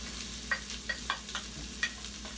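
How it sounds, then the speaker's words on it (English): Onions and garlic sauté in a pot for a lemon orzo soup, with a soft, steady sizzle and several light stirring clinks and taps, close and unaccompanied by talk. "this is gonna have to saute for about 3 minutes"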